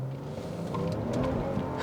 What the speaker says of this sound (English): Wheel spin on a fucking 7 Series.